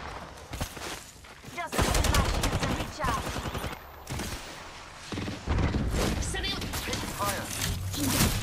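Rapid automatic gunfire and explosive bursts in the video game Apex Legends, loud dense volleys coming in waves with short gaps, while a player talks over the action.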